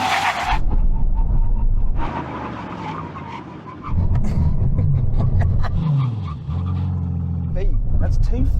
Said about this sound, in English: Okay, brake test.